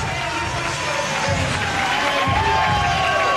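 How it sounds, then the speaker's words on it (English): A large wrestling crowd at a CZW event in Smyrna, 2001, cheers and roars continuously, a dense wall of voices with some whistles cutting through, loud and steady throughout. "Listen to this crowd."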